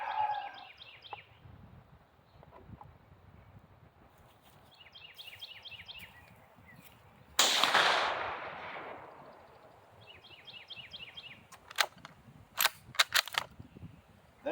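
A rifle fired at a 25-yard target: a single sharp, loud shot, then quieter crackling bursts of sharp clicks and brief faint knocks against a low outdoor background hum.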